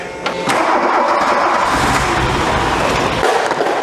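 An old Volkswagen Scirocco barn-find engine, fresh from a warm-up regulator rebuild, cranks briefly, then catches and runs steadily at a rough, loud idle, close by, with no talking.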